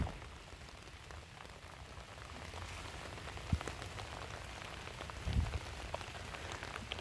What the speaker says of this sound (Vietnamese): tại trời mưa quá mưa này không biết chừng nào mới ờ, mới hết mưa nữa